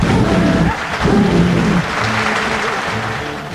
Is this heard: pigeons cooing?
no